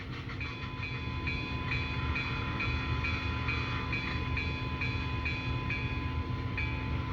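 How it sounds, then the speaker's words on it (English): A Paragon 2 model train sound decoder, number 9000, on a steam locomotive rings its bell in a steady, even clang held throughout, over a constant low mechanical hum, with no voices. "Here's the bell."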